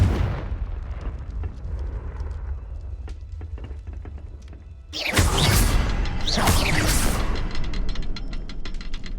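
Confringo blasting spell going off in the Hogwarts Legacy video game: a quieter stretch of clicks and small impacts, then a sudden loud explosive boom with a rushing burst, followed by a second blast and a lingering rumble.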